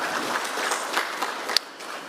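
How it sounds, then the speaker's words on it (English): Audience applause at a parole conference held by a prisons and correctional service, steady clapping from many hands filling the room throughout, with one sharper clap standing out near the end. "An additional round of applause to her."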